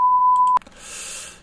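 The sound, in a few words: PLC trainer buzzer sounding on UCR trip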